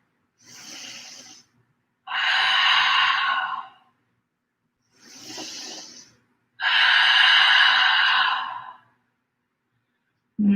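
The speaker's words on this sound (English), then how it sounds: "let's take 3 full rounds of breath and letting it be an open mouth exhale each time" Two rounds of breathing during a vinyasa yoga session, each a softer inhale followed by a longer, louder open-mouth exhale, close to the ear and evenly spaced, with no talking.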